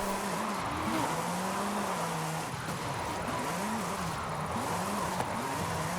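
Engine of a car on snow tires in Forza Horizon 5, droning steadily with repeated rising and falling revs as it slides through a run, loud and continuous with no talk.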